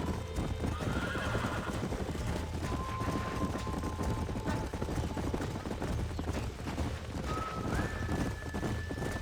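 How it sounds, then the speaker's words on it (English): Horses in the Red Dead Redemption 2 video game, at a ranch, clop their hooves in a steady rhythm while whinnies and neighs ring out over a dense, continuous bed of game ambience. "These are fine horses."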